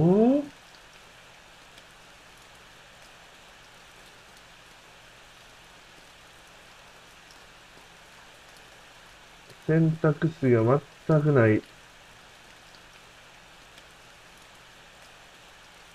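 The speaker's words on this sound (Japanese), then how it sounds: "雨の音が怖いわ。" Steady, soft rain hisses throughout a scene in the Japanese horror game Ao Oni. A voice breaks in briefly at the start and again near the middle.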